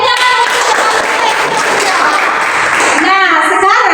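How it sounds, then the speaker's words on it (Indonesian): Applause and crowd noise fill a classroom during a Christian religion lesson, with steady clapping running throughout and children's voices rising near the end. "Ya, tepuk tangan."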